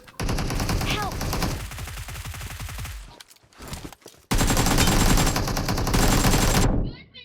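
Rapid automatic gunfire in a multiplayer shooter video game, a long loud burst, a brief lull with scattered shots, then another sustained burst that cuts off abruptly.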